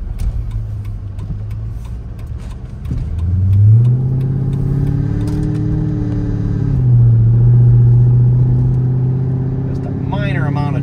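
Deep, steady engine drone from a 2007 Dodge Magnum SRT8 fitted with an SLP catback exhaust, rising in pitch under light acceleration and holding a loud, close cabin hum throughout.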